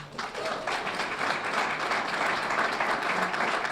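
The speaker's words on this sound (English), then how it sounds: "So a round of applause for them as well." Audience applause at a Temple University student-athlete graduation celebration, a dense, steady wash of many hands clapping together, loud and sustained throughout with no voices standing out.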